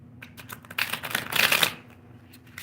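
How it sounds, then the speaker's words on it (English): A tarot card deck is shuffled up close, giving quick papery riffling bursts that swell and fade over a couple of seconds with no talking. "We're shuffling some decks for you"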